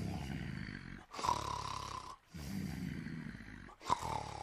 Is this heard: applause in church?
no